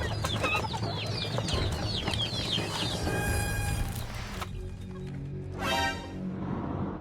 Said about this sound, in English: There are cages and cages of chickens that are cramped up inside.